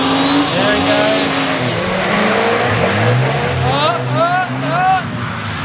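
A front-wheel-drive car drifts and spins on a track, its engine revving hard with rising and falling pitch and tires squealing and skidding, loud and close, with voices talking over it.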